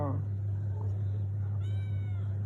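Cat meowing outdoors in cool weather, two short meows, one at the start and another about midway, over a constant low electrical hum.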